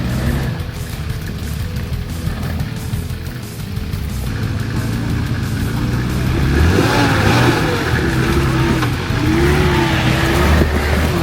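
A four-wheel drive grinds up a steep rocky track over large rock step-ups, its engine loud and close, labouring steadily and revving higher in the second half.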